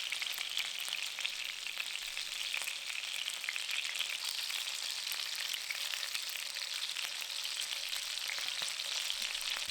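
Chicken cutlets fry in hot oil, giving a steady, dense sizzle and crackle that runs at an even level throughout with no voices.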